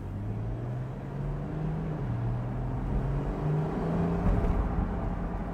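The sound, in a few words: Porsche 911 engine sound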